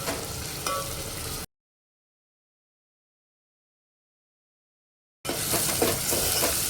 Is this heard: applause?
no